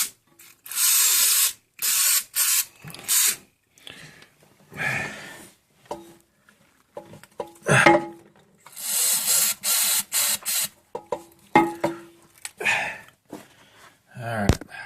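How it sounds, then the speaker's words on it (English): A Flex Seal aerosol can sprays in repeated hissing bursts of a second or two, separated by pauses with faint clicks and handling noise, close and fairly loud. "I'll try lifting this up and spraying all the way around it too this time."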